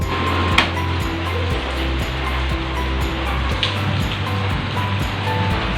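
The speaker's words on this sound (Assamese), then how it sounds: "বৰষুণ চাওক" Steady rain falling outdoors, a constant broadband patter with occasional sharper drops and a low background rumble, continuous and fairly loud with no talking.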